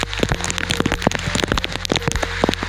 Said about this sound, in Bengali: আর দেখো বৃষ্টি কেমন হচ্ছে তোমাদের একটু ভালো করে দেখিয়ে দিই।